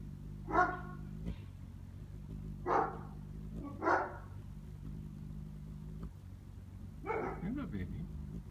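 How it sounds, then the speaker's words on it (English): Dogs bark in separate sharp bursts, four or five barks spaced a second or so apart, moderately close, over a low steady hum. "My non-stop barking dogs."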